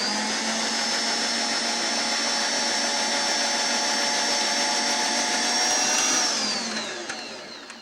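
A Bosch mixer's slicer-shredder attachment shreds carrots with a steady, loud motor whine that holds a constant pitch, then rises slightly and winds down near the end.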